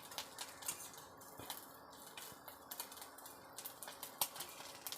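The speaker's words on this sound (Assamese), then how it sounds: "ইপিনে দেখিছে মাছ ভজাখিনি মই এনেকৈ ধুনীয়াকৈ একদম কাঢ়াকৈ মই ভাজি লৈছোঁ" Fish frying crisp and red-brown in hot oil, a steady close sizzle with sharp spattering pops and crackles throughout, no talking.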